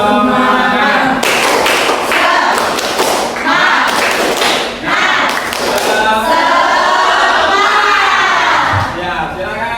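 A school class performs a rhythmic group clapping chant, loud patterned claps and thumps mixed with children's voices chanting and shouting together throughout.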